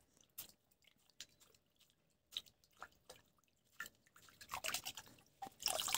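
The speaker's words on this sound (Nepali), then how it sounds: "यसलाई मजाले एक्वेरियमको पानीले यसरी सफा गर्नु" An aquarium filter sponge is squeezed and rinsed in aquarium water, giving a series of close, wet squelches and drips that come in bursts and grow busier toward the end.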